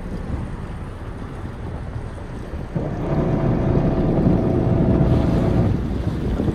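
Motor yacht engine rumbling as the boat pulls away from a dock in Manhattan waters, a low steady drone that grows louder partway through, mixed with wind noise on the microphone.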